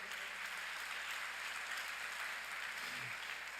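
A church congregation applauding in a steady, even wash of clapping, moderately loud and continuous, with a faint voice near the end.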